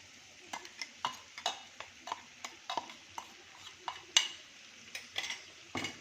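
A spoon stirs ground spices into capsicum curry in a metal pan, producing steady soft scrapes and clinks in an even rhythm, close and fairly quiet, with no talking.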